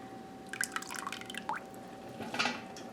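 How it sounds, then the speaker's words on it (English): Beef bone broth made in an Instant Pot drains out, with scattered drips and small plops landing close by over a faint steady hum and no talking. "I'm going to let all that broth drain down in there."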